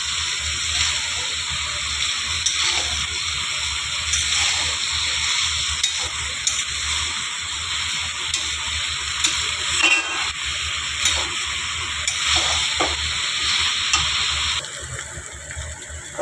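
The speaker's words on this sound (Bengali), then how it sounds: "এখন ছোলাটা দিয়ে একটু কষাবো" Chickpeas being sautéed in a spiced masala with potatoes for ghugni: a steady sizzle and hiss from the pan, broken by occasional scraping stirs. The sound continues unbroken and quietens slightly near the end.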